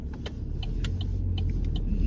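Cars passing through narrow lanes, a steady engine and road rumble running throughout with no gaps, heard from nearby.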